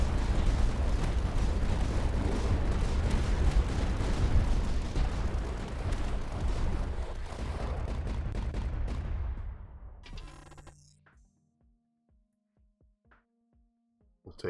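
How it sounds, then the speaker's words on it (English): Experimental cannons in the tower defense game Tower Dominion fire in a dense, loud barrage of booming blasts that fades after about ten seconds, leaving a few sparse, quieter shots and clicks. "Experimental cannon starting to take over a little bit."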